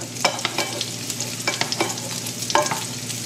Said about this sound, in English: Now we're going to turn these meatballs